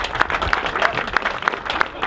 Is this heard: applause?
yes